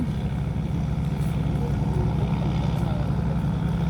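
A tugboat towing barges on the Chao Phraya River gives a steady, loud, low engine drone with some wind buffeting, heard continuously throughout.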